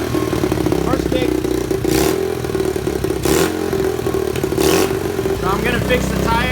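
A cheap pitbike engine fires up after a kick start and keeps running loud and close, a steady mid-pitched rattling putter with a few revs and clattering bursts.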